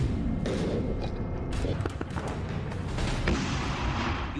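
Explosions and artillery booms in the Ukraine war sound as dense, rumbling blasts and thuds, continuous and heavy, with overlapping impacts and a deep roar throughout.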